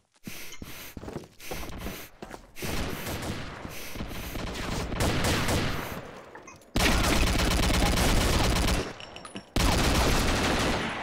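Rapid bursts of automatic gunfire from the online shooter Combat Arms in Arms Race mode, close and loud, coming in dense volleys separated by short gaps, with a few quieter breaths between.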